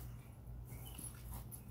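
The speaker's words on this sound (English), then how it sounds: "Does your neighbor's dog always bark like that?" A neighbor's dog gives faint, distant whimpering yips over a loud, constant low hum of background noise.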